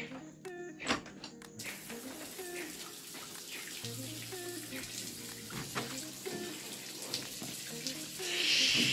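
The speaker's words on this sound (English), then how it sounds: "Outside shower." An outdoor shower at a coastal holiday accommodation runs with a steady, close hiss of spraying water, broken by occasional knocks and clatters.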